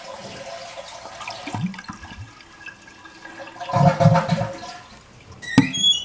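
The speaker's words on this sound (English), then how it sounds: "we're just going to flush the toilet and let the water drain out" A toilet flushes with a rushing gurgle that swells midway, then the tank drains and trickles, ending with a sharp clink.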